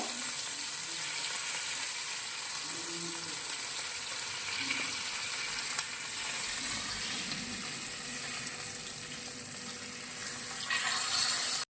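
Fish pieces sizzle in hot oil with a steady, bright hiss, while faint clinks and soft shifts come up as they are lifted out one by one. The frying hiss runs continuously and close throughout.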